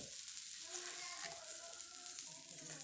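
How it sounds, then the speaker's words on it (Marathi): Masala sautés in oil for a brinjal curry with chana dal, a continuous close sizzle and crackle with faint stirring, steady and moderately quiet with no talk. "आता मस्तपैकी हा मसाला परतून घेऊया आपण"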